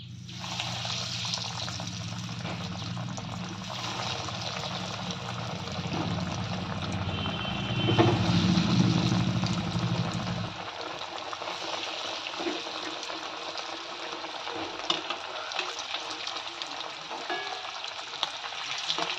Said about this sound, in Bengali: বাকিগুলো এইভাবেই ভেজে নেব